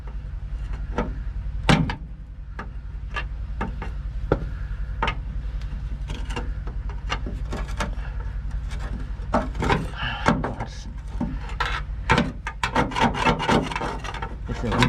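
Stiff scrubbing and rasping against a rusty rear shock mount on a 2007 Toyota Tacoma, steady and close, in rapid back-and-forth strokes with harder scrapes toward the end.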